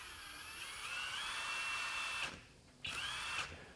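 A FLEX FX1471 high-torque impact wrench runs under its variable-speed trigger with a close, steady high whine, cutting out briefly, then spinning back up before stopping.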